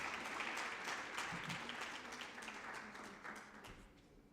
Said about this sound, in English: can we acknowledge the last speaker with smile and big hands of applause?